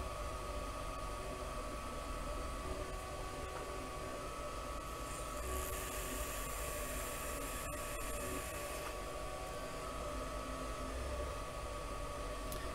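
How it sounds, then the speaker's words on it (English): A Wanhao Duplicator i3 Mini 3D printer runs with a loud, constant mechanical whir and hiss, a steady droning texture with slight shifts in pitch and no speech over it. "It is kind of a loud printer."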